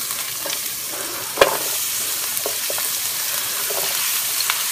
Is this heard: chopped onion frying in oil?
yes